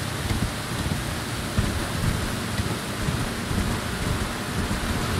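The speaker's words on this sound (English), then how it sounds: "Oh, lightning." A lightning storm in the game Elden Ring, with thunder rumbling under a continuous roar of rain and wind, low and steady throughout with no clear single crack.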